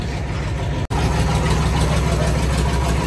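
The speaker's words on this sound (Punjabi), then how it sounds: "ਬਾਕੀ ਟਰੈਕਟਰ ਕਰ ਲਿਆ ਸਟਾਰਟ ਦਿਖਾਉਂਦੇ ਹਾਂ ਤੁਹਾਨੂੰ" A tractor engine rumbles steadily at idle, loud and close. The low throb is broken by one brief cutout, then continues with some background noise.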